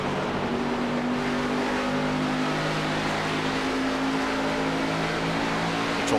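Race car engine throttling up on the oval at Homestead during an AREA Pro Series race, a loud steady motor roar with sustained droning tones running continuously throughout.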